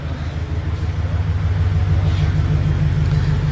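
A Subaru BRZ fitted with an HKS dual resonated front pipe idles nearby, its exhaust giving a deep, steady, throbbing low rumble that rises slightly in level, with no talking.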